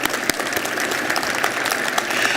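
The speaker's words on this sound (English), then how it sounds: "That deserves a round of applause." An audience at a presentation event claps in sustained, dense applause, loud and continuous throughout.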